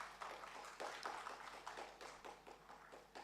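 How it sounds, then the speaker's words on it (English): Scattered hand claps from an audience at an ERP expo session, a quick uneven patter of individual claps, faint and distant throughout. "Just give a big round of applause."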